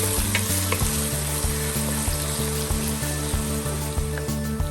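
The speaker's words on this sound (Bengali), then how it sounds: "এই পেঁয়াজটাকে আমি ভালো করে নেড়েচেড়ে ভেজে নিব।" A cup of chopped onions fries in hot oil for a Kohi prawn curry, with a loud, continuous close sizzle and rhythmic scraping as they are stirred in the pan.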